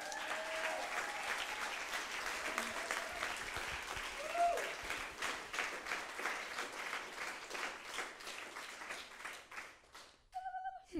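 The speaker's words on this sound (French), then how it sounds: "Donc, on peut encore les applaudir une fois." Church congregation applauding after a baptism, sustained crowd clapping with a few whistles and cheers, fading toward the end before it cuts out.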